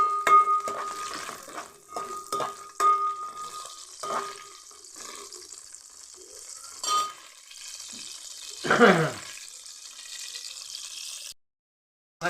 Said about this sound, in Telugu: మిరపకాయలు వేగిన తర్వాత తీసేసి ముక్కలు వేపుతుంది ముక్కలు నూనెలో మగ్గినట్టు చక్కగా ఉంటుంది